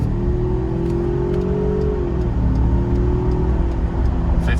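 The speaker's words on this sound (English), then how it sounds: "That was pretty quick for a little Ford Ranger 2019 EcoBoost." A 2019 Ford Ranger EcoBoost pulls hard up a highway on-ramp, its engine note climbing steadily, easing at a shift, then rising again over continuous road noise, heard from inside the cab.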